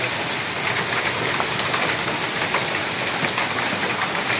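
Heavy rain with hail pours down in front of the market gate in Rajkot, a dense, steady roar of drops striking surfaces close by, with occasional sharper hits and no voices.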